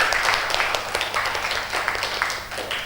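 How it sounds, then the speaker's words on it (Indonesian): A short burst of clapping in a classroom lesson, a small group of hands striking in quick uneven patter, fairly close and steady for a few seconds with no talking. "Betul sekali, tepuk tangan."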